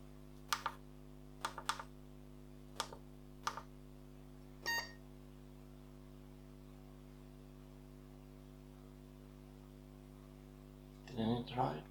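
Keys on the numeric keyboard of an industrial 386 PC are pressed in sparse single and double clicks over a steady mains hum, with a short beep in between and a burst of clatter at the end.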